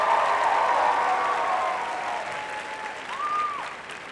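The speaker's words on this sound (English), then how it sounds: "Let's give them another round of applause." Dense audience applause fills a Wish Week 2023 wish granting assembly, steady and full for the whole stretch, with a few whistle-like tones rising over the clapping.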